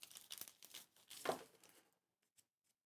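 A small plastic bag holding a travel sewing kit is opened and crinkled, giving a busy rustle of crackling plastic for about two seconds followed by a few faint ticks, near and quiet.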